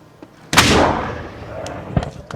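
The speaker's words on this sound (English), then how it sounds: "select board, firing our cannon" A ceremonial cannon at a Fourth of July parade fires one loud, close boom that rolls off into a long fading rumble, with crowd noise around it.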